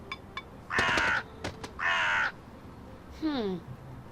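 A crow caws in the PC video game Elroy and the Aliens, three harsh, separate calls at close range, the last one sliding downward, with quiet background between them.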